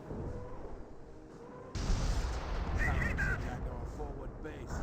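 A naval artillery barrage lands in Company of Heroes, a World War II strategy game: a heavy, sustained roar of explosions breaks in partway through over a low battlefield rumble, under game effects with no clear talk.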